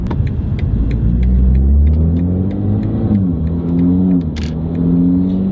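A BMW M340i running a downpipe tune accelerates with a deep, close rumble, its engine pitch climbing and dropping through quick gear changes, with short ticking clicks scattered throughout.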